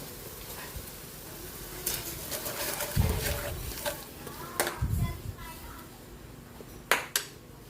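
A lid set onto a cooking pot of tilapia simmering with tomato and tamarind, giving two or three clattering metallic knocks and scrapes over a soft background hum.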